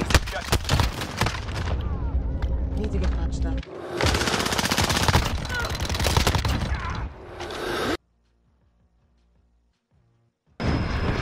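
Video game gunfire erupts as hostile fire, dense bursts of automatic shots and heavy impacts filling the first eight seconds, then near silence before another loud burst resumes; radio-style voices speak over the shooting.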